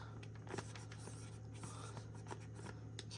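Marker scratching across a plastic meal prep bag while labeling a pizza kit, a series of short squeaky strokes close up and quiet, with no talking.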